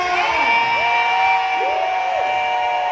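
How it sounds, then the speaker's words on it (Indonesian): A crowd at the Lmen of the Year 2019 event cheers and whoops loudly and continuously, with rising shouts and sustained yells; distinct clapping is hard to pick out beneath the cheering. "Boleh kita berikan tepuk tangan yang paling meriah untuk Bapak Dewa Juri kita"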